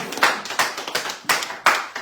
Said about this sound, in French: je mérite vos applaudissements